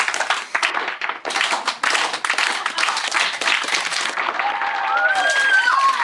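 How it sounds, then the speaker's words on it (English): A crowd claps a round of applause, starting as a slow clap and swelling into fuller, dense clapping that runs for several seconds. Voices mix in near the end. "A round of applause."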